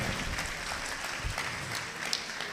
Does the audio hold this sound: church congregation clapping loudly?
yes